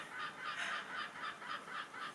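A seagull calls in a quick run of about eight regular, faint squawking cries, steady and alone with no talk.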